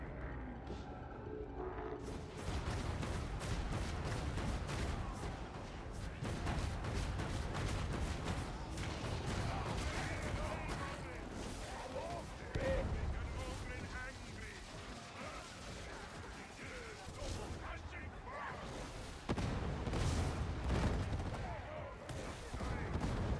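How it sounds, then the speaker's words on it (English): Ogryn multi-grenade box explosions in the video game Warhammer 40K Darktide, heard as a dense, continuous barrage of blasts and gunfire-like bangs lasting over twenty seconds, with a player talking over the chaos. "all those explosions, or at least constantly getting jumped up, was from the Ogren's multi-bomb"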